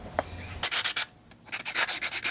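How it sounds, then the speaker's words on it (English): Sandpaper rubs back and forth over a guitar cavity cover in quick, close strokes, a pause splitting two bursts of rhythmic scratchy sanding. "we've got a fair bit to sand"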